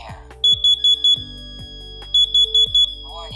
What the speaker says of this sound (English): So we've entered our code to silence the alarm and performed a sensor reset